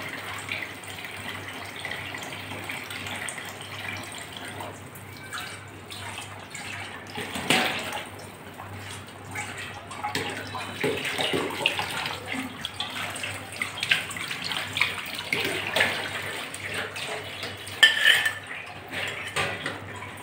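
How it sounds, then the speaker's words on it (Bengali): Fried koi fish pieces go into a bubbling, boiling curry gravy for a spicy mustard-oil tel-jhal. Soft simmering and splashes mix with clinks of a utensil against the pan, with no talk. "এখন আমি ভেজে রাখা মাছগুলো দিয়ে দিচ্ছি ঝোলের ভিতরে।"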